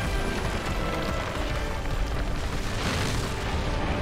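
The dragon spear cannon firing in Monster Hunter World: a loud, sustained roaring blast with rumbling, crackling bursts that fills the whole stretch and never lets up.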